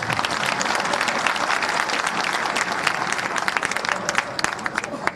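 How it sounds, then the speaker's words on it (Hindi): Loud, sustained applause from an audience at a ceremony honouring newly elected mayor and councillors in Haryana, dense clapping filling the whole stretch without a break. "थोड़ी ताली जोरदार बजाओ।"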